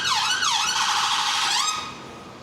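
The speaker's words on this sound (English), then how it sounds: "It's an ambulance making lots of noise." An ambulance siren wails loud and near on Regent Street in London, sweeping up and down in pitch before cutting off, with faint street noise beneath.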